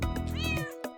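A cat in an animal RPG video game lets out a single short, clear meow, close and alone.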